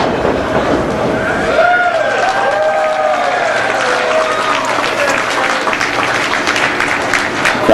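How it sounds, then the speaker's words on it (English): Wrestling crowd at a live CWE show applauding and cheering both competitors after an exchange of holds, a steady wash of clapping with commentary talk running over it. "Crowd very appreciative of both men's efforts here."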